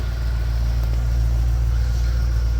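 A car engine idling steadily just after starting, a constant low rumbling hum close by with no talk over it.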